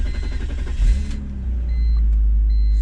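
A used car with about 175,000 miles is started. A brief cranking burst gives way to a steady low engine idle that grows slightly louder and holds, close by, with no talking.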